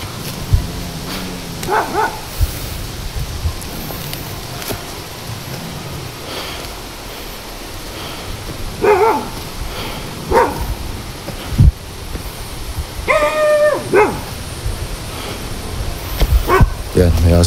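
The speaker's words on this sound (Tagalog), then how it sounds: "Yan, may aso sa unahan." Distant dog barks and yips break out intermittently over steady outdoor background noise, with a voice speaking in between.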